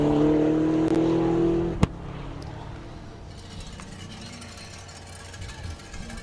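A turbocharged LS-engined race car on the Pikes Peak hill climb course, its engine droning loudly before cutting off sharply with a pop, leaving a fainter distant engine rumble and ambient noise.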